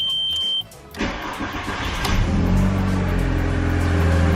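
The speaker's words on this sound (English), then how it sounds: "So when I start the car now, it's a lot quieter than the last clip." A high beep cuts off, then a Volkswagen MK4 Jetta engine cranks and catches, settling into a steady, fairly quiet idle with a low rumble.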